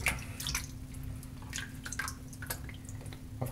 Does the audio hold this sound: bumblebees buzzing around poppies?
no